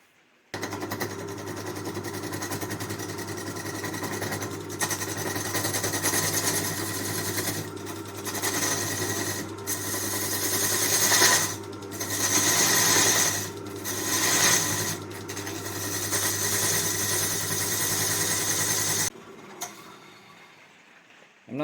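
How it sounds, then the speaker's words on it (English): A wood lathe turns a tenon on a piece of laurel wood, giving a steady close mechanical hum with gritty scraping rising and falling for about twenty seconds before it stops. "I'm just going to start off with turning a tenon at either end so that I can start using the chuck"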